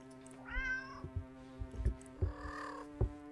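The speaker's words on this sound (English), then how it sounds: "The sound of happy cats munching away at the fish that fills your ears." Cartoonish cat meows from a video game, two drawn-out mewing calls over a steady electronic hum, with soft thumping chomps scattered between them as happy cats munch on fish.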